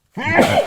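A single close, loud sneeze bursts out after a brief silence and carries through to the end, with no talk over it.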